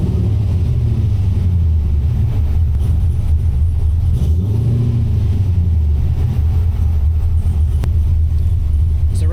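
An LS V8 swapped into a Mazda RX-7, running on a Holley Terminator X setup, rumbles loud and close at a steady idle, with a brief rise in revs midway before settling back.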